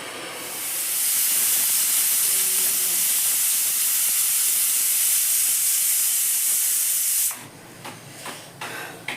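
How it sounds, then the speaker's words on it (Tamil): A loud, steady pressure cooker whistle, cooking jackfruit seeds, hissing continuously for several seconds, then cutting off abruptly, leaving quieter kitchen noises. "ரெண்டு விசில் விட்டுக்கலாம்"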